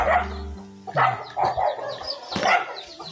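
Several sharp dog barks come in short bursts, fairly close, with scattered clucking-like calls around them.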